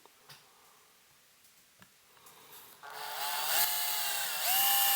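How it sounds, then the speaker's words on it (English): A power drill bores a pilot hole into a metal amplifier chassis, starting at about three seconds and running steadily loud with a rising, whining pitch after a few faint taps before it. "then we'll drill a pilot hole"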